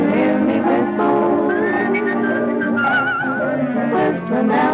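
Someone whistles a bright, wavering melody up close, steady and continuous with a light vibrato, over a soft accompanying backdrop.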